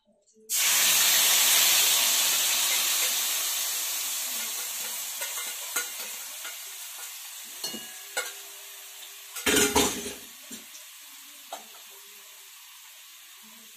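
Onion, dry chilli and ginger paste hit hot oil in a pan with a sudden loud hissing sizzle that slowly fades into steady frying, broken by occasional utensil taps and a brief clatter.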